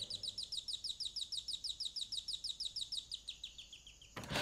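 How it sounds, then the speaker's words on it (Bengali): An electronic doorbell plays a bird-call chime, a fast run of evenly spaced, bright chirps lasting about four seconds and ending in a sharp click, heard alone and fairly clearly. "বেল টিপতেই পাখির ডাক শোনা গেল।"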